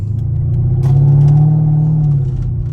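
A 2009 Mercedes SL550 R230 with a coilover conversion, heard from inside the cabin: a steady, loud low engine and exhaust drone that swells briefly as the revs rise, then settles, with no talking.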